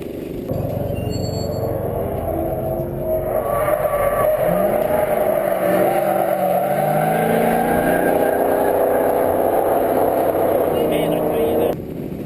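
Racing kart engines on a formation lap in a sim racing game, a steady buzzing drone of several small engines with rising and falling pitch, loud and continuous throughout.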